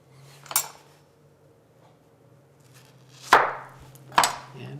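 A kitchen knife chops through ingredients for Long Island shrimp scampi on a cutting board, making three sharp, separate cuts: one early, then two close together near the end, with quiet pauses between.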